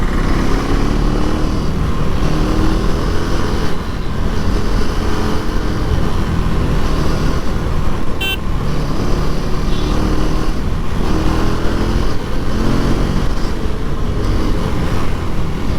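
Street traffic surrounds a rider on a motorcycle set to street mode, heard as a steady, loud engine and wind rumble that never lets up, with one brief sharp click midway.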